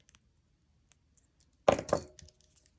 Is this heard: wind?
no